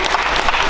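An audience claps at a comedy show in Brazzaville, with a short burst of close, dense applause at a steady volume.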